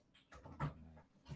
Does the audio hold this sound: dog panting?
yes